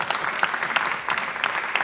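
An audience applauds Yannick Noah during an interview event, a dense, steady wash of clapping from many hands that stays loud and even throughout, with no voices over it.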